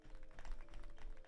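Faint, rapid typing clicks on a keyboard come through as a quick, irregular patter over a low background hum.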